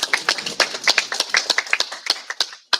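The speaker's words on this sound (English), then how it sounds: "So I will ask for a big clap for him." A small audience at a children's justice event in Pakistan claps unevenly, sharp close claps in a quick irregular patter that stops abruptly near the end.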